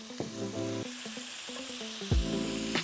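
Butter melts in a hot cast iron pan with a faint, even sizzle, mostly covered by melodic tones of background music playing over it.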